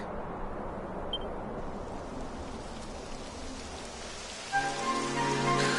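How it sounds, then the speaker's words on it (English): Steady video game rain from Dragon Quest patters down in a dense hiss, joined near the end by a soft sustained musical tone. "It would have to go and start raining, wouldn't it?"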